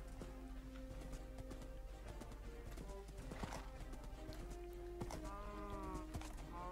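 Horse hooves clip-clop at a steady riding pace in the game Minecraft, faint and fairly distant, with a soft tonal backdrop and no talking.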